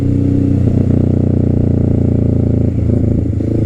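A Kawasaki Z650 650cc parallel-twin motorcycle engine pulling hard, a loud, close, steady droning roar with a slight dip and change in pitch near the end.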